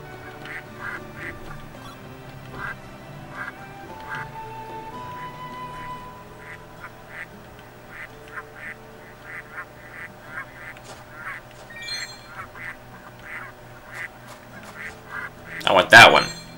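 Cartoonish duck quacks repeat in short, rhythmic bursts over soft game music in Baten Kaitos, building to a louder cluster of squawks near the end.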